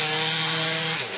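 A painted wooden coffee table is sanded with a power sander, giving a steady, close abrasive hiss over a low motor hum that eases off at the very end, with no talking.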